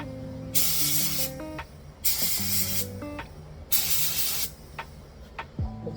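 A spray gun loaded with candy paint fires three separate bursts of loud hissing spray for a test pattern, each about a second long with short pauses between, over a low steady hum.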